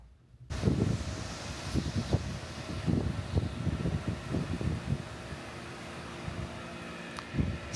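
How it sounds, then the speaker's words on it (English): Steady outdoor wind noise with gusty bursts and a constant broadband hiss like rain, fairly close and continuous, with no talking. "There's gusts of wind every once in a while. It's raining."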